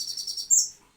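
A young crow chick calls with a quick burst of thin, high chirps, fairly close and then fading into quiet.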